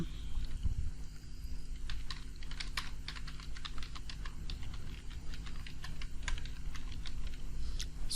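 Rapid keystrokes clatter on a computer keyboard as a profile description is typed, a steady close stream of clicks over a low constant hum.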